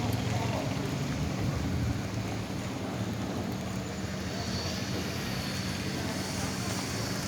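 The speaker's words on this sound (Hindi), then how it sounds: "तेज़ हवाओं के साथ बारिश हो रही है।" Rain driven by strong wind falls at night on a street in Karachi, a steady broadband rushing hiss with gusty wind noise and a low rumble, fairly faint and continuous.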